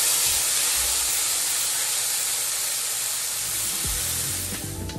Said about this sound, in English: A little bit of olive oil is already down in the pan. Throw the shrimp in.